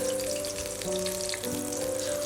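Steady bubbling sizzle of chicken snacks frying in hot oil in a wide pan, close and continuous, with a faint tonal hum underneath.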